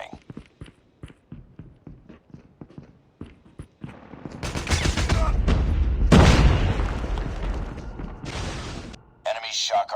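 In a shooter video game, an enemy Shock RC blows up in a loud, rumbling explosion that swells and lingers for several seconds, after a run of quick footsteps and clicks, with voices breaking in.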